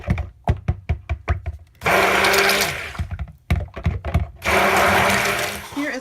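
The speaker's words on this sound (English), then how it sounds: "I'm gonna cheat a little bit and just use the stick blender" A stick blender mixing soap batter runs in two loud sustained bursts of steady whirring, separated by clattering taps and bumps as the blender knocks against its container.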